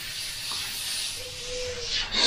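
A Badger airbrush spraying paint gives a steady close hiss for just over two seconds, rising briefly toward the end, with no speech.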